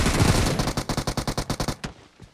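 Automatic gunfire in the video game PUBG Mobile, a fast burst of about a dozen evenly spaced, loud, close shots, followed by a couple of fainter shots as the burst dies away.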